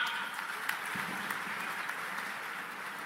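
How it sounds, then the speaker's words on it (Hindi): A crowd at an India Post rural postal workers' conference in Ujjain breaks into applause, a continuous wash of many hands clapping at moderate distance, steady and unbroken. "उनके लिए भी एक बार तालियों की गड़गड़ाहट"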